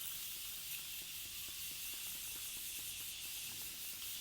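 Morphe Prep setting spray hisses from a bottle in a steady, faint, continuous mist with no talk over it.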